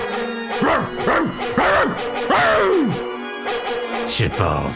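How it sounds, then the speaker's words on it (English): A cartoonish dog barks several times in quick succession in the video game Nekopara, close and loud, followed by a short spoken exclamation. "That's the sound of me barking."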